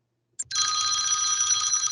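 A telephone bell rings loudly and continuously after a brief silence and a short click, a bright trilling ring held steadily to the end with no talk.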